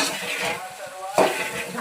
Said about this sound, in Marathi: आता त्याला मी मस्त खालीवर करून घेते चमच्याने दाखवते